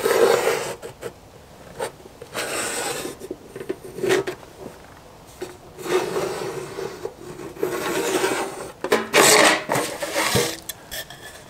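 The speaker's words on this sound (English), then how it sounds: "I'm going to lay the little tin on top of this piece of plywood and just trace it around like this." A pencil traces around a small whiskey tin laid on a piece of plywood, making close, dry scratching and rubbing strokes in short bursts separated by brief pauses, with no speech.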